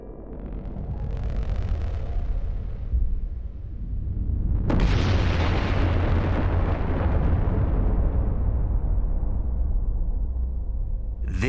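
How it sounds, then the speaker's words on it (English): Cinematic explosion effect for a Type 1a supernova: a low rumbling swell builds, then a huge sudden blast erupts at mid-point into a loud, sustained roaring boom that fills the rest of the sound. "This is a Type 1a supernova, an exploding star."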